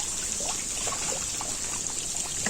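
Spring water at Pancoran Mas on Mount Pesagi trickles and splashes close by, a soft steady babble with small bright droplets throughout, no talking.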